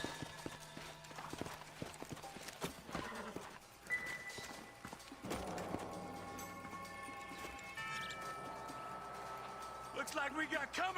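Hooves clop in Red Dead Redemption: Undead Nightmare, with intermittent horse snorts and whinnies under game voices and other sounds.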